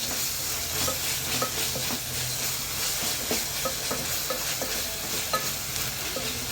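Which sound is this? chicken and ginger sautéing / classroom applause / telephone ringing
chicken and ginger sautéing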